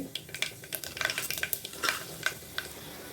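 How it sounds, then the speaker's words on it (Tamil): Fenugreek, cumin and mustard seeds dropped into hot oil for a fish curry tempering, crackling and popping in quick bursts over a low sizzle, up close with occasional spoon clinks. "இதில் இப்போ நம்ம தாளிப்பு கொடுத்துக்கலாம். வெந்தயம், கொஞ்சமாக சீரகம், கடுகு"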